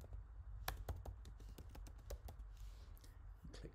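Computer keyboard typed quickly for a few seconds, a close, quiet burst of crisp key taps in an irregular rhythm with a brief pause before a final few strokes.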